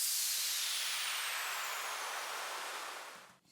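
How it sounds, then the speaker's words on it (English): A layered downward sweep effect for an Ableton dance track, a loud, dense noisy whoosh with a faint falling tone that slowly darkens and fades, then cuts off abruptly, with no voices. "Then I layered that sweep with this sweep."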